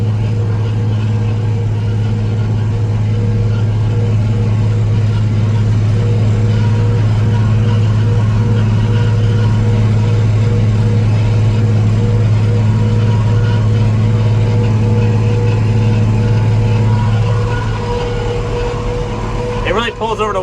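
A farm tractor drags a deep tillage implement through soil, its engine a loud, steady low drone up close that eases off near the end.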